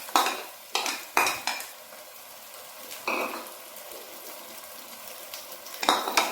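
Ginger and onion lightly frying in a pan for Punjabi dhaba-style aloo baingan, a steady soft sizzle broken by several sharp utensil clanks and stirring scrapes, close and without talk.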